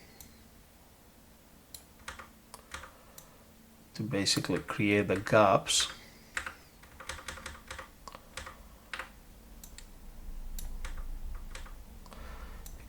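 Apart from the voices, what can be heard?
pressing arrow keys on a computer keyboard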